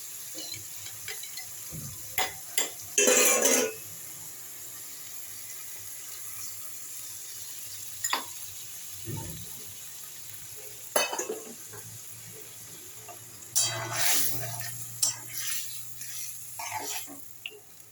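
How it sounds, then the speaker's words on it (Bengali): Water from rinsing a spice bowl is poured into a hot pan of bitter gourd shukto, sending up short bursts of splashing and sizzling amid faint kitchen clatter and long quieter stretches. "এবারে এই মশলার বাটিটা ধোয়া জল ঢেলে দেবো।"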